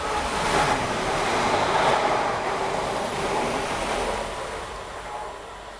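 A train of empty coaching stock passes at a station, a loud, steady rushing roar with rumbling underneath that holds for several seconds and then begins to fade.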